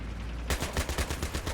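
Machine gun fire in Battlefield 3, a rapid burst of about eight loud, close shots in even rhythm starting after a brief quiet moment.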